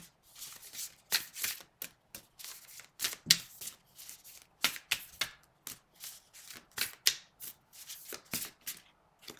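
Tarot cards shuffled by hand in a run of quick, crisp riffling bursts with short pauses between them, close and fairly quiet, with no talking.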